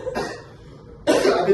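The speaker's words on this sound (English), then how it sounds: "Do not start coughing right now." Two coughs, close and fairly loud: a short one at the start, then a louder, harsher burst after a brief quiet gap.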